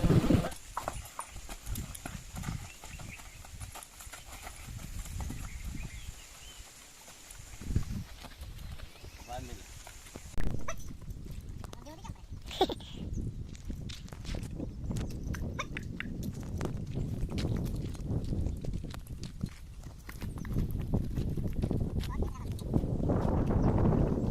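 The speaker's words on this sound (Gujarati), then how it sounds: "ઘોડીને થોડીક ધમારવાની છે અને ઘોડીને થોડાક પગ મોકળા કરાવે છે" A mare being walked on a farm to loosen her legs, with hooves clip-clopping in a loose, irregular rhythm nearby; people talk over it throughout, and outdoor noise rises toward the end.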